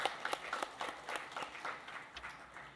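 A church congregation applauds the Zion choir during a Wednesday service, with scattered, fairly faint claps forming a loose, uneven patter that fades toward the end.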